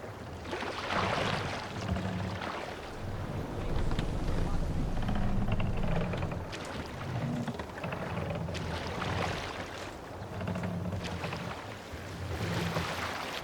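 Wind rushes and water churns around a sailing ship at sea in Assassin's Creed Valhalla, a steady, full wash with a low creaking rumble that swells and eases. Voices speak over it throughout.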